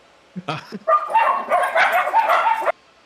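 A dog gives a few quick barks, then a longer run of excited yipping and whining, loud and close, with people talking at the same time.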